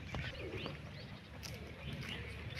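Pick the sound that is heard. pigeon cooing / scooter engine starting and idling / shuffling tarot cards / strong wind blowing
pigeon cooing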